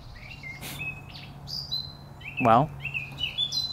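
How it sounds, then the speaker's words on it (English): Birds sing outdoors, several bright chirps and whistled trills scattered through the clip, with a person speaking briefly over them. "I ate a Snickers bar and I listened to the birds sing."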